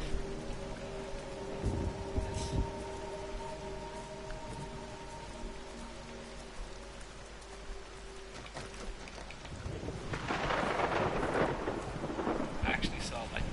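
Thunder rolls and steady rain falls in the video game Everybody's Gone to the Rapture, with a low rumbling crack early on and a louder burst of rain and thunder near the end, a faint voice briefly under it.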